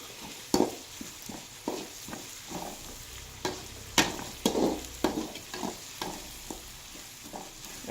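Onions frying and sizzling in a pan on a home stove, a steady low hiss broken by repeated scraping stirs and soft clacks of a spoon, close and fairly quiet.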